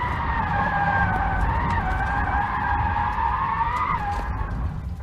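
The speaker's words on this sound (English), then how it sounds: "Definitely drifts. Feel sorry for the tyres though." A Rimac Nevera electric hypercar drifts with its tyres skidding, making a loud sustained squeal that wavers in pitch over a constant roar and then drops off near the end, with no talking.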